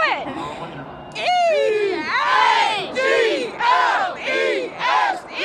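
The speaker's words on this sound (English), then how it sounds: "Do you want to lead this crowd in an Eagles cheer?" Fans at an Eagles victory parade shout an Eagles cheer together, a crowd's rising rhythmic chant with several loud, swelling calls in a row after a quieter start.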